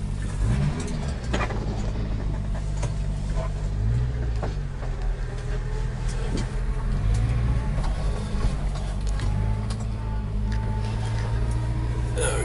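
Subaru Sambar mini truck being driven, a steady close engine drone with road rumble and small shifts in pitch as it moves along.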